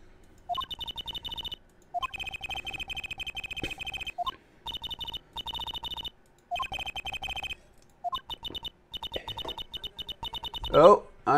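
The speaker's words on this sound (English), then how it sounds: "Oh, I'm getting a phone call." Repeated bursts of a phone ringtone sound in regular rings separated by short gaps, with a voice briefly audible near the end.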